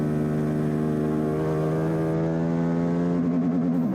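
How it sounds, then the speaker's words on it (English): An Aprilia RS660 racing motorbike engine held at high revs against the rev limiter on track, a loud sustained buzzing whine that wavers and stutters toward the end. "I've just hit the rev limiter there going over 3"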